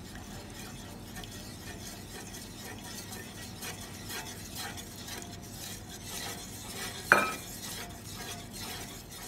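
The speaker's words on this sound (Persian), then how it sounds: "همینطوری هم میزنیم تا از کناره هاش جوشای ریز بخوره" Béchamel sauce being stirred in a pot, a steady soft scraping and swishing that continues throughout, with one brief sharp clink of utensil against metal near the end.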